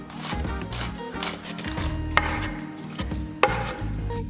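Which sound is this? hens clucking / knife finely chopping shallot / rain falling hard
knife finely chopping shallot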